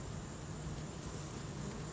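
Honey bees buzzing around a beehive in spring, a dense, steady hum close by that fills the whole moment without a break.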